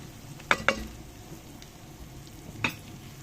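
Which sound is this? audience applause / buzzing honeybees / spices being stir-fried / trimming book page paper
spices being stir-fried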